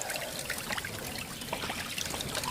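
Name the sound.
water running through gold sluice box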